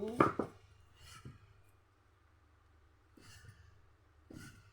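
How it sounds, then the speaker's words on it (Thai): Pork sliced on a board with a knife in a home kitchen, a few faint, separate chops spaced well apart, each a quick soft knock against a quiet background. "หั่นหมูก่อน"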